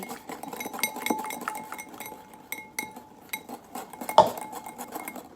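Rapid clinking of a utensil against a bowl as eggs are beaten together with cream for a strawberry rhubarb crumble tart, uneven strokes with brief pauses and one sharper knock near the end.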